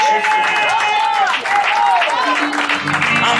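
A church congregation applauds during an evangelical worship service, dense clapping blended with sustained sung or amplified melodic voice and music, loud and continuous throughout.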